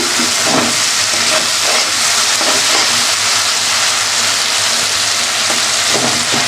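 Spice paste (masala) sautéed in a pan while cooking a Bengali boal fish kalia gives a steady, close, loud sizzle and hiss that runs without a break and with no talking.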